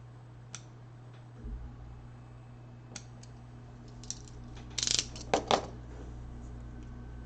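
A tiny piece is cut freehand for a miniature bake shop kit. Small, crisp snips and clicks come close by, spaced apart at first, then a quick cluster of sharper cuts near the end.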